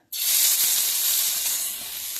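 Onions hit a hot frying pan with a sudden loud sizzle that holds steady and strong for about two seconds, with no voices.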